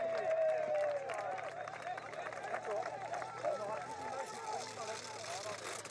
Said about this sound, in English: receiving the warm encouragement of this Baden-Württemberg crowd here